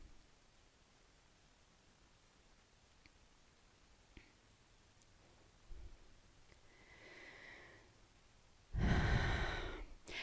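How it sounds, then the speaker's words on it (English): During a gentle outdoor stretching practice, a person takes a soft breath and then a loud, deep, close exhale near the end, against quiet background hiss. "take a deep inhale and then a small exhale"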